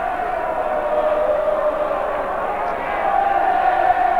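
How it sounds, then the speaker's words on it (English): A big crowd roars without a break at a 1995 Australian football match between Central and Port after a goal, a broad far-off cheer that swells toward the end. "And that mighty cheer around the ground."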